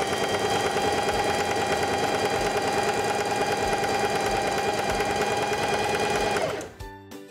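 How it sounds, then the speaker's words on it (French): A Singer 4411 heavy duty sewing machine stitches through fabric with a rapid, steady mechanical whirring hum that runs loud and close before slowing and stopping at the end. "Insérez une pièce de tissu sous le pied presseur, abaissez le pied presseur et débutez une couture."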